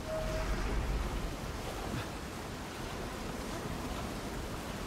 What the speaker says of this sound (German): Hier ist ein reißender Fluss.